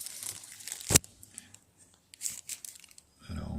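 Packaging around a HOMTOM S16 phone charger tears and crinkles, with one sharp rip at the start and then brief scattered crackles and rustles, close and fairly quiet, followed by a low rumbling handling noise at the end.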